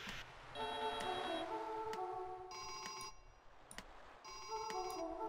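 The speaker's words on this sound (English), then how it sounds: "Phone's ringing. Who's gonna answer?" A telephone rings indoors in repeated electronic bursts, loud and clear, pausing and starting again over a low background hum, with no talking.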